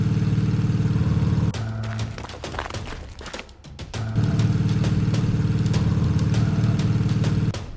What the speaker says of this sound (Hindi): सपेरा मोटरसाइकिल लेकर भागता है।